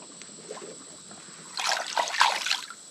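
Spring water trickles in Peacock Springs State Park, first a faint quiet flow, then a louder burst of splashing and dribbling near the end over a thin steady background hum.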